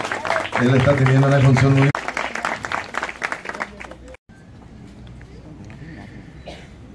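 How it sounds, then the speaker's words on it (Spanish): Graduation audience applauding at a colación ceremony: a loud burst of crowd clapping at first that thins into scattered claps, then stops, leaving someone speaking Spanish over a quiet room. "Fuerte el aplauso para Carlos."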